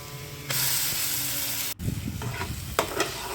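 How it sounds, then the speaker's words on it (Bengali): Onion and paste for potol shrimp bharta frying in a pan, a loud sudden burst of sizzling hiss that cuts out briefly, then continues with stirring scrapes and knocks. "এখন আবার আমি পেঁয়াজ ভালোভাবে একটু লাল হয়ে আসলে আমি আবার এই পেস্টটাকে ভালোভাবে ভেজে নিব"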